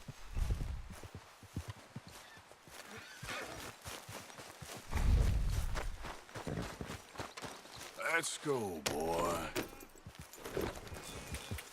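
Horse hooves clip-clop at a walk in Red Dead Redemption 2, with a rider's voice and longer stretches of narration over the steps, plus a brief whinny near the end.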